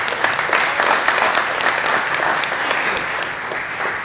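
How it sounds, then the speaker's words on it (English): An open-house audience claps for the caterers in a steady, fairly loud round of applause with distinct individual claps, continuing for the whole stretch without talk. "Let's give them a round of applause."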